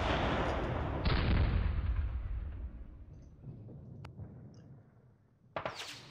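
Assault gunfire in the World War II North Africa 1941 strategy game Panzer Battles North Africa: a heavy rumbling volley that slowly fades, then a few sharp isolated cracks and a final short burst, no voices.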